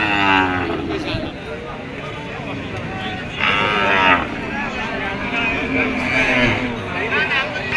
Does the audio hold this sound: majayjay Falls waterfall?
no